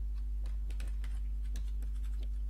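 Keystrokes on a computer keyboard while entering code for a C++ game engine, a steady run of light clicks over a constant low hum.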